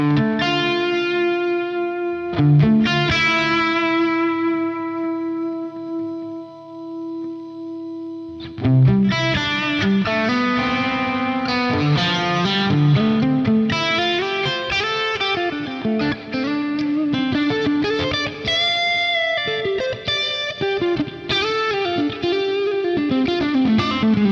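An electric guitar plays through a Friedman Dirty Shirley amp model with a crunchy, mildly overdriven mid-gain tone, sustained chords ringing out before a run of driven riffs and single notes, with no talking.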